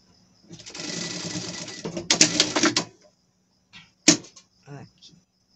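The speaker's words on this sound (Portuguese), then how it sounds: "passamos um presponto aqui por cima pra dar acabamento, já que a gente não vai na overlock" A domestic straight-stitch sewing machine topstitches the finishing seam on a small pet dress, running in a steady burst of about a second, then a faster surge, then short stop-start stitches, with quiet handling between.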